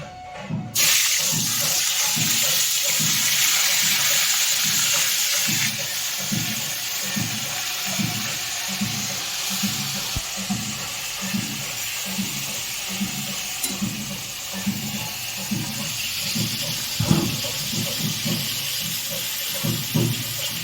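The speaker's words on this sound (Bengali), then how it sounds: "তেল গরম হয়ে গেছে, এবার আমি মাছটা দিয়ে দিচ্ছি।" Fish fries in hot oil in a wok, giving a loud, continuous close sizzle and hiss that holds steady throughout with a faint rhythmic pulsing underneath.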